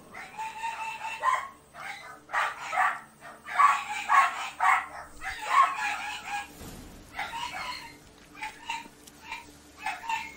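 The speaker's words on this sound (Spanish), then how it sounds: "Ah, esos perros, cómo me hartan." Dogs bark and yelp in a rapid series of sharp bursts inside The Witcher 3 video game. The bursts come in quick clusters with brief gaps, fairly loud and close, and little else is heard around them.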